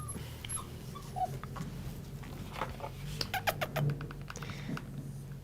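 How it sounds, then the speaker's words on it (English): A puppy in a craft studio gives faint, high squeaks and whimpers, scattered short yips over a low background hum, with no talking. "They can hear the puppy squeaks."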